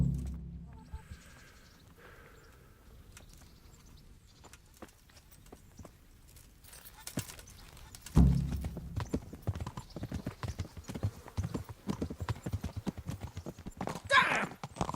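A horse's hooves clip-clop in steady rhythm on a path in the medieval game Kingdom Come: Deliverance, starting softly and growing louder and closer partway through, with faint ambient sounds underneath.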